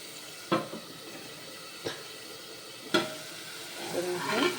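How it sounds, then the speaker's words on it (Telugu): Spring onion and tomato curry being stirred in a pan over a low flame, with a few separate scraping strokes of a spoon against the pan and a soft bubbling background, no talking. "నేను మళ్ళీ దీన్ని కలుపుకుంటున్నాను."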